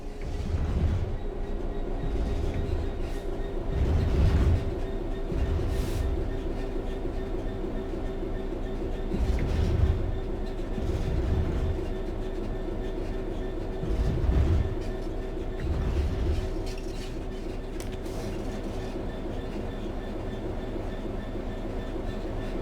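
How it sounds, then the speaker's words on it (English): A train in Train Sim World 3 coasts steadily along the rails on level ground with a constant low rumble and mechanical hum, periodic clacks of wheels over joints recurring every few seconds. "The train will then coast on level ground"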